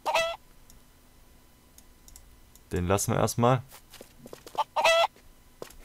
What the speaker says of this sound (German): Da unten sind Hühner gefangen in meiner kleinen Höhle.